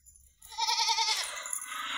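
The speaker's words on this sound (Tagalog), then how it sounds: "palalabasin ko na po yung mga mababait na alaga ko pong mga kambing" Goats kept as farm animals bleat together close by, a dense, wavering chorus that starts after a brief quiet moment and continues steadily to the end.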